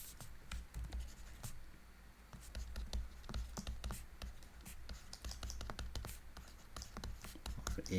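Pen writing by hand on paper, close and quiet, a continuous light scratching with brief taps and strokes through the whole stretch.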